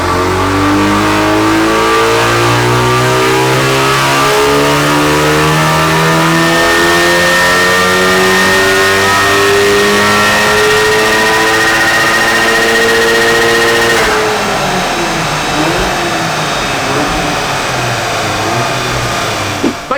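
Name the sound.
VW Golf R MK7.5 engine revving on a dyno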